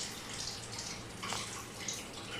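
Dates are washed in water, with continuous soft splashing and trickling, a few brighter bursts as the fruit is stirred and rinsed.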